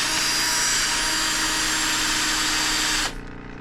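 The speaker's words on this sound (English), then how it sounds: "I'll grind that off because it's not going to stick" A power grinder strips peeling zinc plating from a steel Dana 27 pinion flange, a loud steady abrasive whine that runs unbroken for about three seconds and then cuts off.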